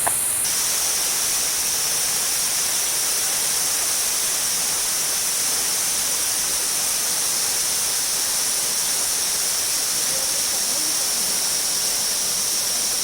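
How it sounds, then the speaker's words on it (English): A small but pretty waterfall at a sightseeing spot in Gangtok, Sikkim, giving a steady, loud, unbroken rush of falling water from start to finish, close up and with nothing else heard. "So let me show you the waterfall."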